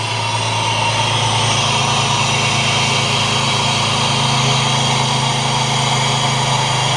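A Jeep Liberty engine fitted with a K&N cold air intake idles steadily and loudly at close range, with a constant low drone and no pauses. No one speaks over it.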